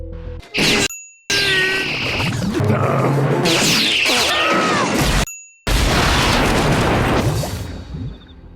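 Cartoon self-destruct explosion in a SpongeBob scene, a loud burst with crashing and whooshing cartoon effects, briefly cut to silence twice, then more blasting debris and rumbling over a dense music bed.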